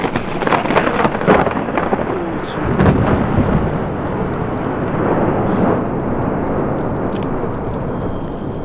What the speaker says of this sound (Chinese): 那个雷声一响，砰